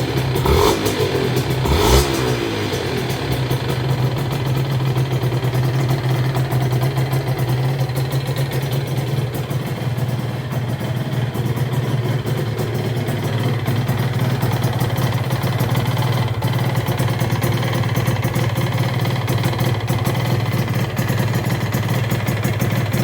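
Honda NSR 125 R motorcycle engine running after starting, a steady close two-stroke drone with a brief rise near the start, continuous throughout with no talk.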